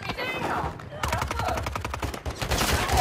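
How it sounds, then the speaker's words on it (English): Rapid automatic gunfire in the Call of Duty Rebirth Island mode with a 9mm SMG, dense close bursts of shots filling the whole stretch. "Oh, I'm getting shot in the back."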